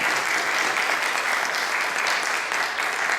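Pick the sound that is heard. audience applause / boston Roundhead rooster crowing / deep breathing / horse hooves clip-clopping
audience applause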